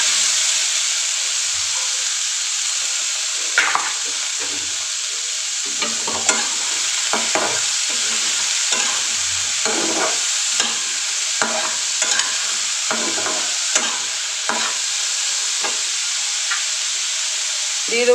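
Sliced radish and green chilies frying in a pan, a constant loud close sizzle broken by many repeated scraping stirs of a spatula throughout.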